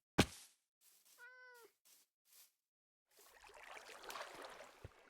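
Minecraft cat gives a short meow followed by a clear purring trill, with sharp clicks and a brief gameplay rustle afterward, faint and isolated.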